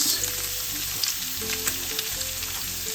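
Garlic and onion sauté in hot oil in a pan for Ilocano pinakbet, giving a steady, close sizzle with soft crackling and occasional stirring bumps.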